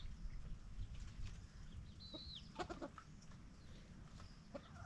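Hen and rooster chickens on a Filipino farm, with a brief high squawk and several short clucks over steady low outdoor rumble, fairly near and alone without talk.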